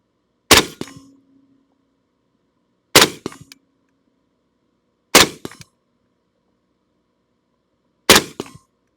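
An AK-47 rifle is fired from the prone position at a 100-yard range: four sharp, loud single shots spaced a few seconds apart, each with a short ringing decay into quiet.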